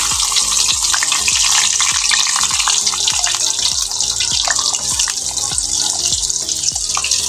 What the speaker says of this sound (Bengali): এই বড়াগুলোকে আমি এখন ভেজে নেব।